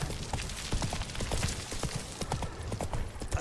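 A horse's hooves clip-clop in a steady trotting rhythm in The Witcher 3: Wild Hunt, close and continuous over game ambience.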